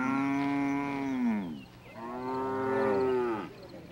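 Maasai cattle in a Tanzanian herding settlement give two long, loud, close moos, each a drawn-out bellow that falls at the end, with a short pause between.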